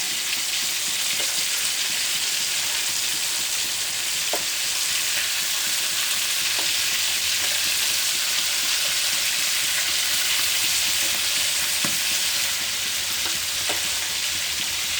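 Potato strips deep-fry for French fries in hot oil, giving a loud, continuous, close sizzle with a dense bubbling hiss and occasional sharp pops throughout.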